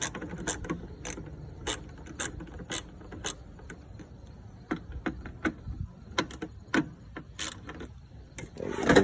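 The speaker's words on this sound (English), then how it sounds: "So just gotta remove 3 screws, I guess." A hand tool works screws loose from a car part, giving irregular sharp ratcheting clicks and mechanical ticks close up, with no talking.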